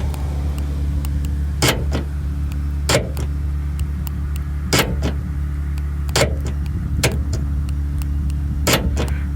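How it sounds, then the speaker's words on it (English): A solenoid lock actuator on a Nissan Frontier tailgate fires several times over a steady low idling hum, each actuation a sharp, solid, close ka-chunk spaced a second or two apart, with no talking. "here's the device that I put in, the solenoid and the slider, and it's got a fairly satisfying"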